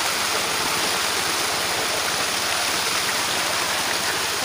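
Water runs from a motor-driven pump out through a channel into a field drain, giving a steady, loud, continuous rushing wash with no pauses and no voices over it.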